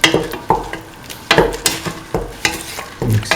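A spoon stirs a mung bean and tomato stew in a pot, giving a fast run of close, repeated scraping and sloshing strokes over a faint sizzle.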